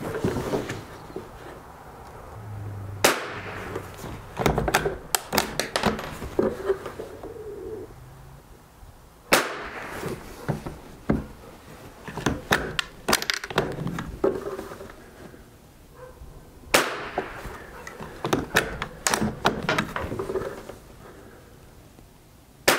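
A Stevens No 66 bolt-action .22 rifle fires at a target, three sharp cracks spaced several seconds apart, each followed by clicks and clatter from working the bolt, with birds cooing faintly in the background.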